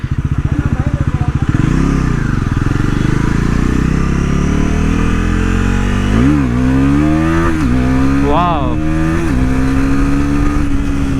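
A Bajaj Pulsar NS400Z motorcycle is ridden close, its engine droning loud and steady. It climbs through several rising throttle pulls and gear changes, with a rider talking over the noise.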